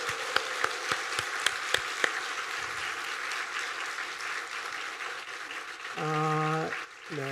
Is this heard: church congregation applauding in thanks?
yes